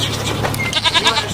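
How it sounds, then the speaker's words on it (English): A goat bleats once in a short, quavering call, close and clear, with no talking. "G for goat."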